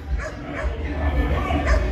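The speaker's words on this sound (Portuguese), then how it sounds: "Aí agora estavam tudo latindo," Several dogs barking and yelping in a squabble, sharp overlapping barks and whimpers repeating through the whole stretch at moderate distance, with a steady low background rumble.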